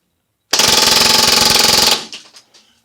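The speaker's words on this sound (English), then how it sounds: "I'm just going to mag dump it" An airsoft gun fires a full magazine on full auto: one loud, close, rapid burst of evenly spaced shots lasting about a second and a half, followed by a few fading mechanical clicks.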